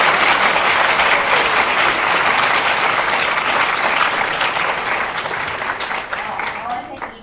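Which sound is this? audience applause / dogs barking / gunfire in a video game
audience applause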